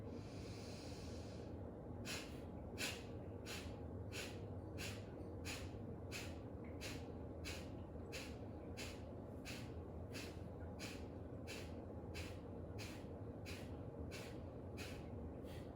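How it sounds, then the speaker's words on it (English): Rhythmic forceful breathing during a beginner pranayama exercise, a long run of about twenty evenly spaced sharp nasal exhales, close and steady, with no talking. "Deep breath in, deep breath out."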